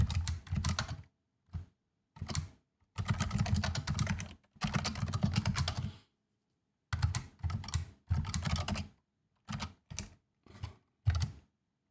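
Computer keyboard typing comes in quick bursts of keystrokes separated by short pauses, close and clear with no talking.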